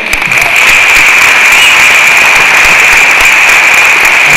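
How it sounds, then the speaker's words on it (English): Loud, dense applause from a large crowd at a school ribbon-cutting ceremony swells in quickly and holds steady, a continuous wash of clapping with no voices over it. "Let's give another round of applause to the band."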